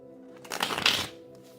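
A deck of Egyptian tarot cards shuffled once, a quick soft riffling flutter lasting under a second, close and quiet.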